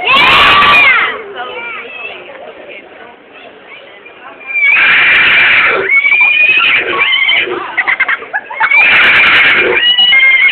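A woman imitates a horse with her voice, giving three loud whinnying neighs separated by pauses, while a crowd cheers and shouts around her.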